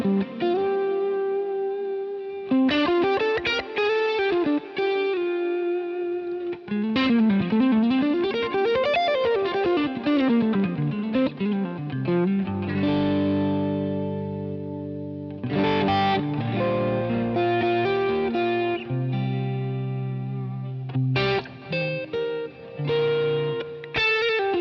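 Distorted electric guitar through a Helix amp modeler set for a Dumble-style tone with a 4x12 Greenback cab, plays sliding riffs and sustained chords, thick and saturated with effects, no voices.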